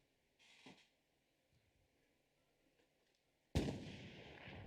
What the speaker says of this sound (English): We hear the artillery coming out from both teams.